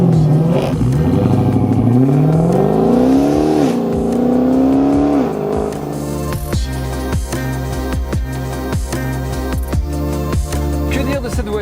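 A Dodge Charger SRT Hellcat sedan with a 707 hp engine, rear-wheel drive, heard from inside as a loud, deep engine roaring and revving up through the gears while driving, with no talk.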